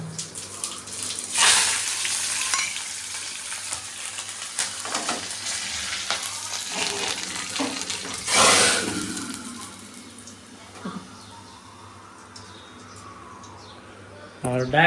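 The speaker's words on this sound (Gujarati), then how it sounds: "દાળ ઢોકળીનો વઘાર" Loud bursts of sizzling as dal tempering hits hot oil, a hiss that surges then fades, with a voice talking in between.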